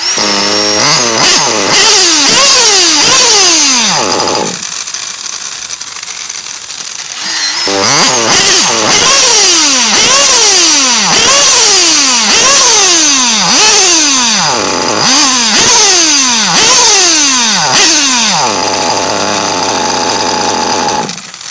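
A motorcycle engine, tuned lean, is revved again and again: each rise and fall is loud and close, with short pauses where the engine sinks back toward a low idle. No one talks.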